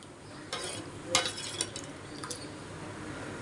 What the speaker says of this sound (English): Now slightly I am cooking the kheer again.